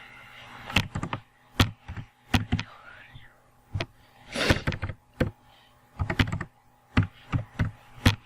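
Typing on a computer keyboard while building a website in HTML and CSS: scattered sharp key clicks, single and in small clusters, close to the mic and irregularly spaced, with soft speech faintly underneath at times.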